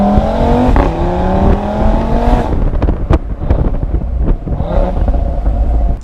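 An Audi RS3 with a five-cylinder engine accelerates hard, its loud, raspy note climbing in pitch, dropping at a quick gear change and then rising again, close and alone.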